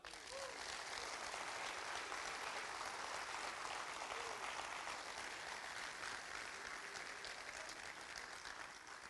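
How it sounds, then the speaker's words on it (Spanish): Sustained clapping from a church congregation, steady and fairly faint, continuing evenly for several seconds with no voices over it. "Dale un aplauso al Señor."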